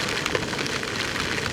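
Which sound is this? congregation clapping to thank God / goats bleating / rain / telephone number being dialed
rain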